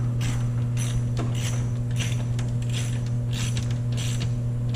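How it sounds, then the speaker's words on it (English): Carriage bolts being tightened on a bike mechanic's tool cart, giving a series of ratcheting, mechanical clicks in irregular bursts over a steady low hum, fairly close and moderately quiet. "So I'm going to go ahead and tighten these down."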